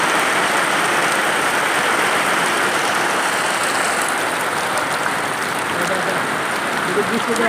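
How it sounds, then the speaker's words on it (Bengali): A heavy downpour roars continuously and loudly without letup, a dense, steady wash of rain noise, with a voice faintly talking beneath it. "দেখুন কী মুসুলধারে বৃষ্টি হচ্ছে আমার কথাই শোনা যাচ্ছে না"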